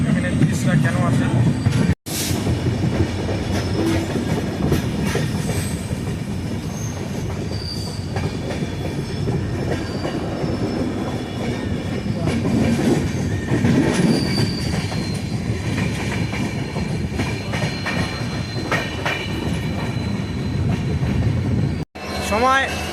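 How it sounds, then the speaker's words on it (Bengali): The 15777 Tourist Express from New Jalpaiguri to Alipurduar pulls into New Mal Junction with a steady, close rumble of wheels and carriages, wheel squeal rising over it throughout; a voice can be heard faintly in the mix. "আমাদের ট্রেন নিউ মাল জংশনে এসে পৌঁছালো"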